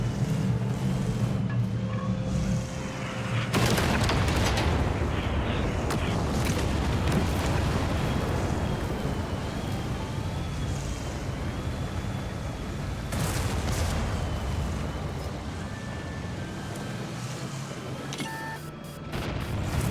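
Explosions and gunfire from a World of Tanks battle involving a Jagdpanzer E 90 tank destroyer, with dense, continuous rumbling blasts and crackling bursts layered over steady engine noise for the whole stretch, with no voices.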